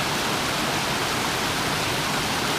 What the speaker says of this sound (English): Really nice waterfall there.